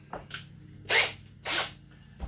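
Drilling pilot holes for an HB Racing wing mount: two short, loud bursts of a power drill spinning up and biting into material, separated by quieter pauses, with small clicks at the start and end.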